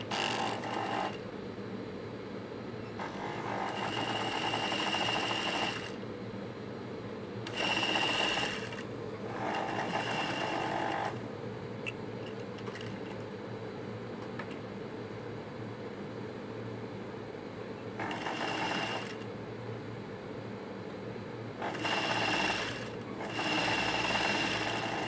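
A sewing machine stitches the neck piece of a blouse, with several bursts of steady motor whirring separated by short pauses, close and fairly quiet.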